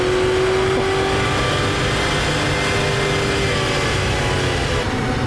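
A V8 engine in an American police car roars loud and close as it accelerates hard, a thick, steady drone with a rising tone that holds for the whole stretch.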